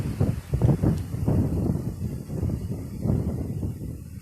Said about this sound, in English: So it's very windy here.